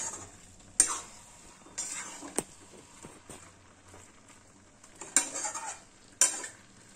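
A spoon scrapes and clinks against a pan while vegetarian cabbage curry is stirred, with soft sizzling beneath and sharp metallic knocks scattered through the quiet kitchen sound.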